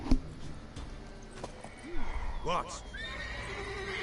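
In The Witcher 3, a horse gives a short, clear neigh and whinny along with a few clip-clop hoof steps, a brief spoken word and sharp game effects sounding around it.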